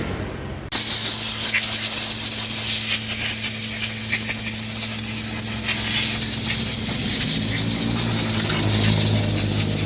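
A power sprayer blasts CVT cleaner into the CVT of a Yamaha Mio i125 scooter, a loud, steady hiss that starts abruptly after a short pause and continues unbroken over a low hum.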